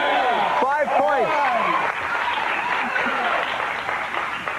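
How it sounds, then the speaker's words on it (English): A studio audience on a game show breaks into loud, sustained clapping that fills the whole moment, while a host's voice speaks over the applause near the start. "For that, you clapped, huh?"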